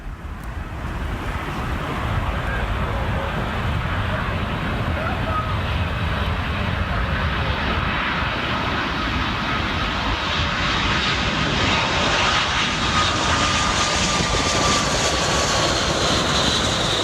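Heavy airliner landing on runway 09 at Miami International Airport, a loud, sustained jet engine roar that swells and holds close by for the whole stretch.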